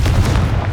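Confringo blasting spell in Hogwarts Legacy: a short, loud, heavy boom with a deep low-end thump, filling the brief moment without any voice over it.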